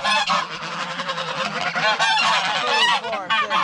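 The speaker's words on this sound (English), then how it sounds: "Let's let the geese out and get their bowls." Domestic geese honk loudly and repeatedly at close range as they are let out of their pen on a small farm, a busy overlapping chorus of calls with no talking.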